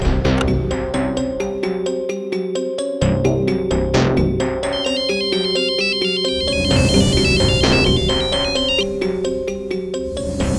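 A telephone ringtone plays loudly and continuously in an indoor setting, a repeating electronic melody with chiming tones that grows brighter and more layered toward the end, with no talking over it.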